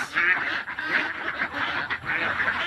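Pet ducks quack close by in a dense, continuous chorus of overlapping nasal calls with only brief pauses.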